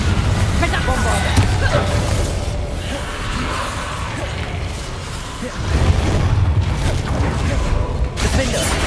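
Bombarda spell blasts in Hogwarts Legacy combat, repeated heavy booming explosions with crashing debris and whooshes, loud and dense with surges around the start and middle, layered over constant game clamour.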